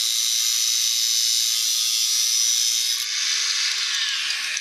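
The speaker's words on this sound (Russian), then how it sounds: "резать болгаркой в квартире еще то удовольствие" An angle grinder whines loudly indoors in an apartment, a high continuous shriek with a steady motor tone that drops in pitch near the end as the disc slows.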